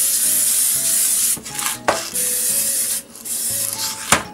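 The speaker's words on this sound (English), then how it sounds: "Make sure you spray it all over, especially the sides." Nonstick cooking spray hissing onto a cake pan for chocolate cake, in several long sprays broken by short pauses, close and steady.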